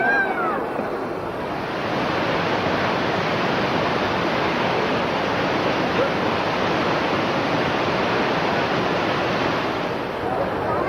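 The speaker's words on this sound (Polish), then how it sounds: "Słuchajcie ten szum. No I to jest wodospad Niagara." Niagara Falls roars in a dense, unbroken wash of white noise, steady and loud throughout with no speech.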